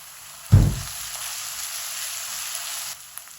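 Cumin and ginger garlic paste hit hot oil with a sudden loud sizzle, then settle into a steady, soft frying hiss that continues for a few seconds before fading.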